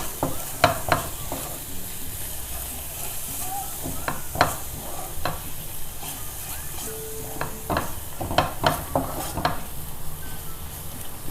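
Spoon scrapes and taps in a pan while fish curry masala with turmeric is mixed, sharp clustered clicks over a soft, steady sizzle close by.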